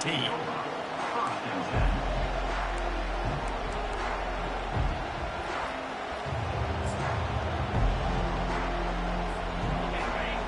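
A football stadium crowd roars steadily through the whole stretch, a dense, far-off wall of noise that swells now and then, with a voice talking over it.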